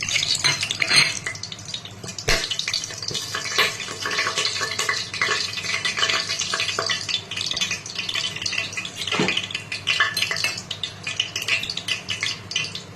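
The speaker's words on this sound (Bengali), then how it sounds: "তেল গরম হয়ে গেছে, আমি এর মধ্যে গোটা গরম মশলা, 2টো তেজপাতা আর গোটা গরম মশলা দিয়ে দিলাম।" Whole garam masala and two bay leaves frying in hot oil for a mutton curry: a continuous sizzle with clinks of a utensil against the pot and stirring scrapes, close up and without speech.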